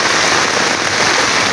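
Heavy downpour: loud, dense, continuous rain hammering on surfaces, a steady broadband roar with no gaps and no voices.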